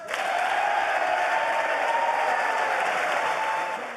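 Applause from Democrats fills the chamber at a State of the Union address, a dense, steady wash of clapping from many hands that holds for the whole span and then thins slightly at the end.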